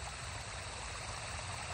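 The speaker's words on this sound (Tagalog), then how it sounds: "Lagaslas ng tubig." A flowing stream babbles steadily, with dense continuous rushing and gurgling water close by and no voices.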